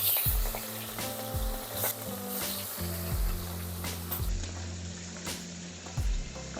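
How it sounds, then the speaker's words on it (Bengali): Hilsa fish pieces rubbed with salt and turmeric fry in hot oil, giving a loud, continuous sizzle with crackling and spattering, broken by repeated low scraping knocks from stirring. "মাছগুলো এবার ভেজে নিচ্ছি"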